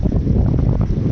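Strong wind on a beach in the Maldives roars and buffets the microphone in a steady, loud, unbroken rush with no pauses.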